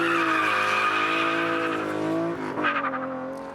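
A racing straight-six in a TVR sports car on a track gives off a loud, sustained, harmonic howl that drops in pitch partway through, then rises again in short revving pulses.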